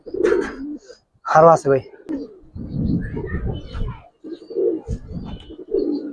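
Silver Giribaz and coloured pigeons coo in low, throaty bursts close by, the soft calls recurring between and beneath someone speaking Bengali.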